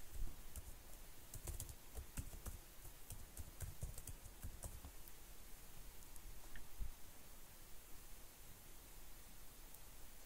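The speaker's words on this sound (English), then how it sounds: "Now type your password." Fingers type a password on a computer keyboard, producing a steady run of light, quick key taps over a low background hiss, with no voices.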